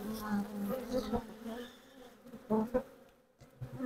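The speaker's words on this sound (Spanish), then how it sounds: "Veo abejas con polen en las patitas." Honeybees carrying pollen buzz around an open beehive frame with brood, a close, steady droning hum with wingbeats rising and falling, fairly soft.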